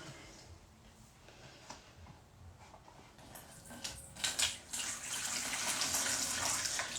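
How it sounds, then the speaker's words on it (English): Water poured out of a Chemex coffee brewer, a soft trickle that swells after a few seconds into a steady, fairly close gush and splash that runs to the end, with no talk. "So pour out that water."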